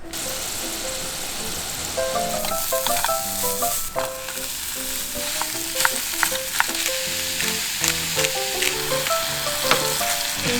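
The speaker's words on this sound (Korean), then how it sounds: "김치를 씻어서 잘게 볶았거든요. 김치랑 이렇게 볶아준 거예요." Washed, finely chopped kimchi stir-frying in a pan at a campsite, with continuous loud sizzling and frying, plus repeated scraping and clinking of a utensil stirring throughout.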